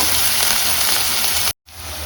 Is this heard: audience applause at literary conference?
no